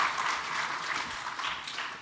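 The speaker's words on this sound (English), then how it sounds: "I think a round of applause for the audience." Audience applause at a cobalt market panel session fills the whole stretch, a steady wash of many hands clapping at moderate volume with no voices over it.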